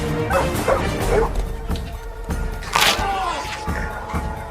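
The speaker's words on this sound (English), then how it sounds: "That dog just bit my ass!" Dogs bark, yip and whimper in short, close bursts during rough play with people, with thumps and scuffling in between.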